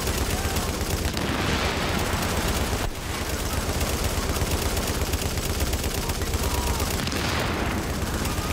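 Sustained machine gun fire in the shooter The Division, firing continuously at close range for over eight seconds with only brief dips, loud and dense, with faint voices partly buried beneath it.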